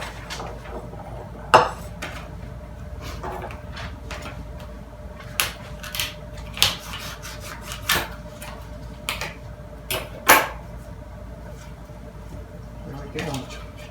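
A knife slices through a batch of grapes held between two plastic container lids, giving sharp clicks and clatters of plastic scattered across the stretch, with a faint background hum.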